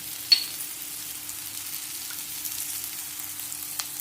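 Onion fries in a pan for egg fry masala with a soft, steady sizzle and a faint hum, broken by a single sharp clink near the start and another near the end.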